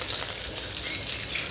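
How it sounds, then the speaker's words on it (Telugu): Oil in a kadai sizzles and crackles steadily for a tempering made for a tamarind-leaf, green-chilli and peanut chutney, heard close and alone without voices. "పోపు కోసం కొద్దిగా కడాయిలో ఆయిల్ అయితే వేసి"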